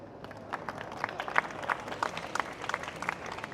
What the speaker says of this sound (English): let's have another huge round of applause for these brilliant people that have joined us today on stage